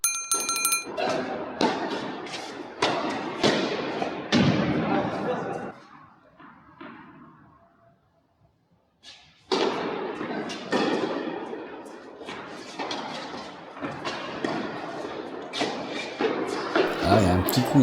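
A doubles tennis training rally with a string of sharp racket-on-ball hits in quick succession, a short quiet gap, then more rapid hits, all heard close with voices in between.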